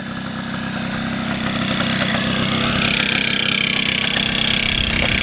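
Moped engine revved with the throttle twisted open, a steady, loud mechanical drone that builds slightly and holds throughout, close to the listener with no talking.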